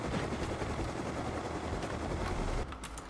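A steady helicopter rotor drone in the video game Rust fills the scene at constant loudness, then drops away slightly near the end with a few sharp clicks.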